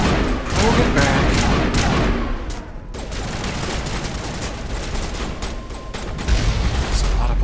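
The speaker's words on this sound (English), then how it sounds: "That's a lot of bullets wasted on the concrete there." Bursts of gunfire striking concrete in the Mass Effect video game, loud rapid sustained volleys with heavy booms, continuing throughout without a break.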